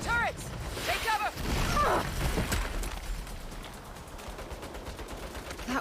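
Turret gunfire in the Saints Row video game, rapid bursts of shots with mechanical clatter and impacts, with shouted voices mixed in over the firing.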